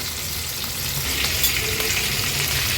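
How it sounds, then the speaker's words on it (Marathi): Large mackerel fry on a big flat tawa with a dense, steady sizzle and crackle, loud and close, with no voices. "आता एक तीन ते चार मिनटासाठी एक बाजू आपण अशीच फ्राय करून घेणार आहोत"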